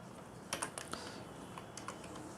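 Short bursts of soft keystrokes tap out code on a computer keyboard in Google Colaboratory, quiet and close, with small gaps between the clusters of clicks.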